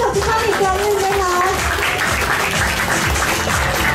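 Loud audience applause at a corporate event honouring executives, continuous clapping with voices and chatter mixed in throughout.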